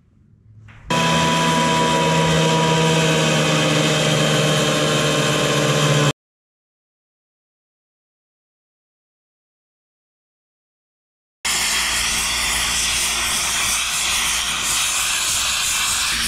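Power saw cutting a compound miter on a roof valley beam: a loud, steady whining roar that runs for several seconds, drops to silence, then resumes with a rougher, fuller cutting tone, no talk.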